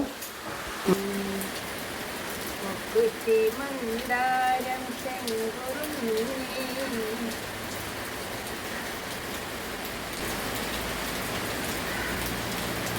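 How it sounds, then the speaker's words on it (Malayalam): Steady, dense rain hisses all through, with a voice speaking briefly over the downpour. "എന്ത് മഴയല്ലേ നോക്കൂ"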